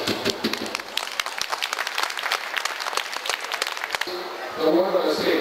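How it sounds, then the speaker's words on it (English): Audience applause at a federal election candidates' forum hosted by a Chinese business association, steady crisp clapping from a roomful of people for about four seconds, then thinning out with faint murmuring. "let's give the round of applause to our candidates for taking the time and such a short notice to come to take today's questionnaire section."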